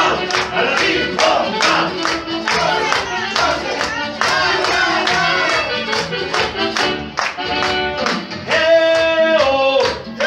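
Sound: crowd clapping along at a keyboard show

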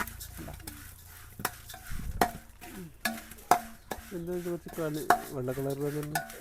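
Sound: stirring food in a hot pan with ghee

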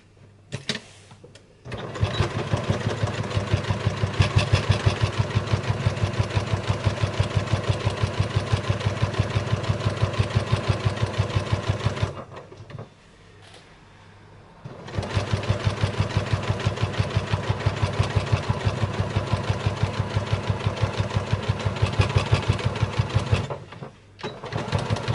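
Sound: sewing machine stitching a machine cover seam

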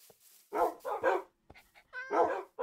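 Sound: dogs barking in Minecraft video game

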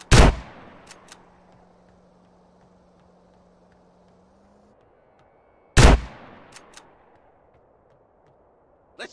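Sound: gunfire in video game GTA San Andreas

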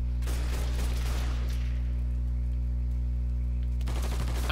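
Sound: gunfire in the video game Mafia III

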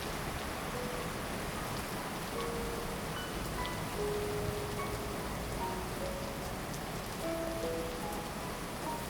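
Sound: heavy rain falling

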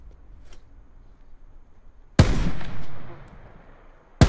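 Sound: gunfire in Call of Duty Blackout video game

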